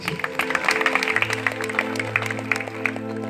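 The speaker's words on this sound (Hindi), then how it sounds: "अब उनके लिए जोरदार ताली बजानी चाहिए।" A crowd at a Shyam Baba bhajan gathering claps in a loud, sustained burst, many hands at once with sharp individual claps standing out, over a low steady drone of sustained musical tones.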